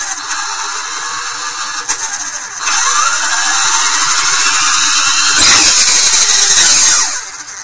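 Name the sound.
Schwaben-tec Velociraptor 1000 motor starting up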